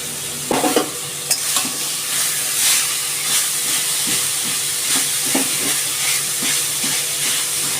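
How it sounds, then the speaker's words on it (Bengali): Coconut and jaggery filling sizzles and hisses in a hot pan while being stirred, with steady frying noise and occasional scraping stir sounds, close and continuous without talk. "আমি একটু নারকেলের পুর বানিয়ে নিচ্ছি তার জন্য দিলাম গুড় দিলাম নারকেল"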